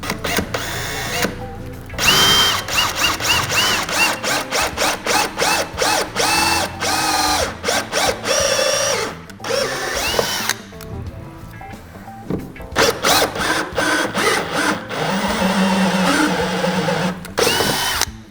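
A power drill with a 1/8 inch bit bores through a small plate cover in several bursts, whining loudly for a few seconds, pausing, then starting again, with brief quiet gaps between runs.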